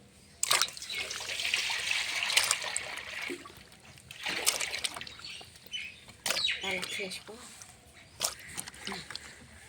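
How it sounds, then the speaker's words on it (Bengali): Water splashes and trickles as chopped mixed vegetables are rinsed in a basin, coming in separate bursts of pouring and sloshing with quieter gaps between them, fairly close and moderately loud. "সব সবজি আমি এখন ভালো করে ধুয়ে নেব 2-3 বার করে।"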